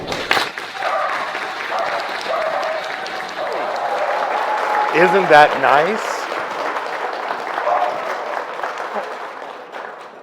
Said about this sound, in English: A round of applause for Dr. Block